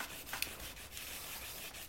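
Wood rubbed hard against wood to start a friction fire, a steady rasping scrape running throughout at close range with a few sharper clicks near the start.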